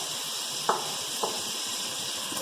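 Mutton frying in a pan for aloo gosht, a steady close sizzle with a couple of faint stirring clinks and no talking.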